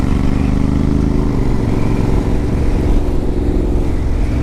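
A clutchless motorcycle's engine revs for a wheelie, a loud, close, rough mid-range roar that holds steady throughout.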